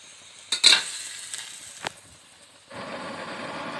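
Water in a pot for Thai egg soup hisses and bubbles. A few sharp clinks come first, then a steady, faint boiling sizzle builds near the end.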